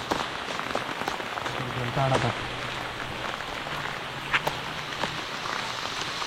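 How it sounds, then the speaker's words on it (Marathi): Heavy rain pouring down outdoors during a fishing outing, a continuous dense hiss with a few sharper knocks and splashes standing out, and no talk. "पाऊस चालू झाला जोरात एकदम"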